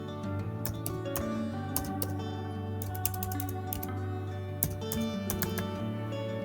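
Python code typed on a computer keyboard, brisk irregular keystrokes clicking close up over a constant electrical hum, with no talking.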